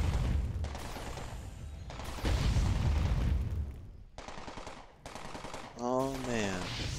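Rapid automatic gunfire in Entropia Universe comes in loud, sustained bursts separated by brief gaps, followed by a warbling, chirping electronic effect at the end.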